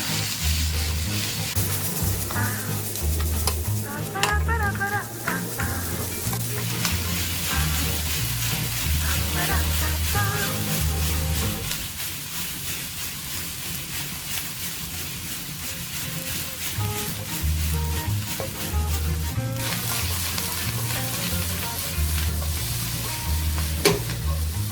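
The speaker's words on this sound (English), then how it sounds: "next, we are going to add our vegetables. Then stir fry." Vegetables stir-fried in a pan for spicy noodles in a home kitchen: steady sizzling and frying with clanking utensil scrapes and stirring, close and continuous throughout under a music bed.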